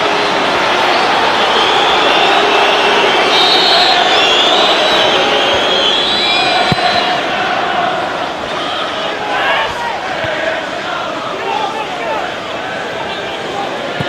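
An Everton football crowd sings in the stadium during a 2007/08 match against Manchester City, a dense and steady roar of massed voices that holds loud for the whole stretch, with commentators talking over it.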